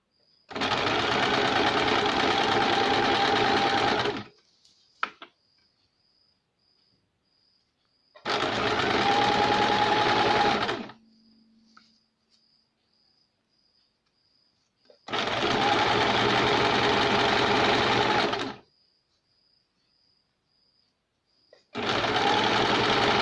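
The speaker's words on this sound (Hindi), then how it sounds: "ये फेस साइड की तरफ से हम इसे सिलाई लगाएंगे" A sewing machine stitches a baby cap in four separate bursts of rapid, loud mechanical whirring, each lasting a few seconds, with near-silent pauses between and a faint high whine lingering in the gaps.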